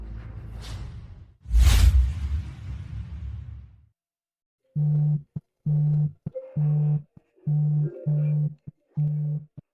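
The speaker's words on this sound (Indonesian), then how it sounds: "Telepon sudah berdering, kenapa tidak diangkat?" After a rushing whoosh and a low boom, a telephone rings in short, evenly spaced electronic tone bursts, about six pulses with brief silent gaps between them, clear and close.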